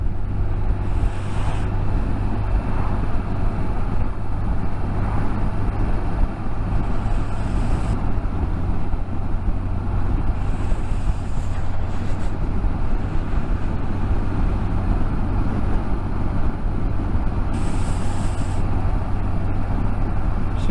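A car engine drones steadily after a downshift into fourth gear on a road near Abergavenny and Llandovery, a continuous loud low hum with road and wind noise inside the cabin and no talking.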